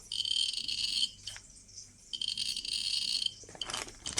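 A Geiger counter dosimeter with a DP-5 probe clicks over a steady, shrill high-pitched tone, with a few sharper bursts of clicks near the end.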